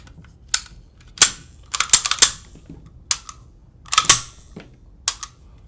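A Sig Sauer P320 pistol slide with an Apex flat-faced trigger installed goes back onto the frame in a quick series of sharp metallic clicks and clacks, close and loud, with short gaps between them and no talking.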